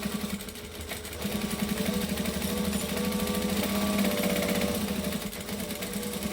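A sewing machine stitches and backstitches a seam with a continuous, rapid mechanical chatter at close range, its pace shifting slightly as the stitching direction reverses.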